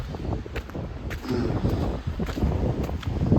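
Wind gusts across a cold city street near Eglinton and Dufferin in Toronto, producing a steady, rough, blustery rush with faint street noise underneath.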